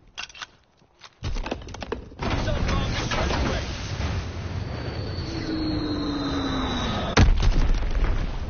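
Rumbling blasts and booms from a bombing run in the World War II shooter Call of Duty WW2, a sustained roar after a short quiet start, with a sharp loud impact near the end and a descending whistle beneath.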